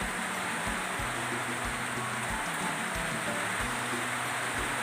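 Steady rain hisses down without a break over a rural backyard garden at dawn, a continuous wash of falling water with faint low thumps underneath.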